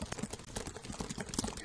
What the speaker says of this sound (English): Which side do you hear at the keyboard?